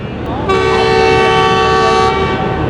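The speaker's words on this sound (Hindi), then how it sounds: "वो खड़ी है भाई रेल कार और ये देखें उसकी रवानगी शुरू हो गई है" A passenger rail car sounds a loud, sustained horn blast of about a second and a half as it departs, over a steady, close rumble of the engine.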